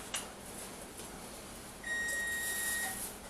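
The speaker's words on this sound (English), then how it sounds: "That beep was the oven coming to temperature." An oven reaching its set temperature gives a single steady electronic beep lasting about a second. It is fairly quiet against faint kitchen room noise, with no speech.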